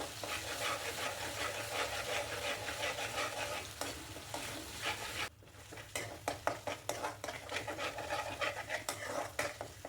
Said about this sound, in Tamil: கடுகு நல்லா பொரிஞ்சதுக்கப்புறம் நம்ம கிரைண்ட் பண்ணி வச்சுருக்க இஞ்சி, பூண்டு, சீரகத்தை சேர்த்து நல்லா வதக்கி விட்டுருங்க